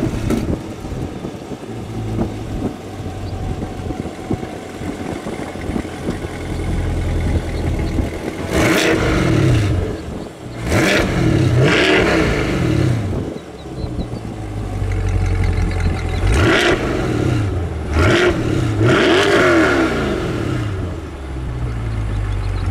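A 2022 Chevrolet Corvette Stingray engine with the optional performance exhaust revs hard several times, sharp throttle blips rising and falling over a rumbling idle, close up.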